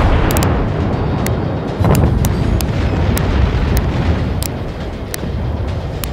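Warship naval guns fire in a video game battle, a loud, dense rumble of repeated booming blasts with sharp cracks every half second or so, continuing without talk throughout.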